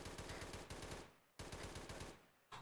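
Sustained automatic gunfire in the military shooter Arma 3, aimed at a tower: two long, dense bursts of rapid shots, each ending in a short decay before the firing resumes, loud and close.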